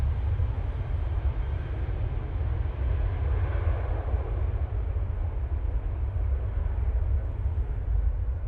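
A jet airliner roars steadily as it takes off from Manchester Airport, a constant heavy rumble that is loud, unbroken and without speech for the whole stretch.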